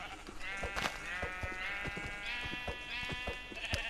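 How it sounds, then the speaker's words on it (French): Sheep bleat in the Minecraft video game, several drawn-out wavering calls one after another over a busy background of clicks and game sounds, fairly quiet overall. "on va déjà tuer les moutons parce que pour se faire un lit c'est mieux"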